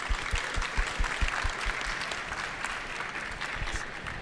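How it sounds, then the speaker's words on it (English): Audience applause at a GeoAI technology conference in London, dense clapping that starts strong with sharp individual claps and gradually thins and softens over several seconds. "Another big round of applause."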